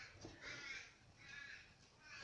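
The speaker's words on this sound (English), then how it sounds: "it's the crows, they're getting a little bit active now." Crows cawing outdoors, two distant rounds of harsh calls about a second apart, fairly faint, with no talk.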